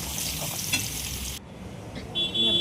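Onion, tomato and cashew gravy sautéing in butter and oil with whole spices and ginger-garlic paste, a loud close sizzle that cuts off abruptly midway, then a quieter pan with a faint tonal beep.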